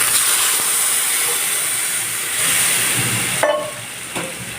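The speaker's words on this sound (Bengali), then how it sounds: "আর এখন আমি দিয়ে দেবো হচ্ছে ঝোল।" Gravy poured into a pan over fried small fish and vegetables, a loud continuous hissing steam sizzle that cuts off abruptly, followed by faint residual bubbling.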